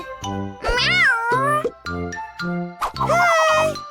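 A cartoon kitten gives several high, rising meows in a children's farm animal cartoon, close and clear, mixed with playful childlike voices and a light tinkle.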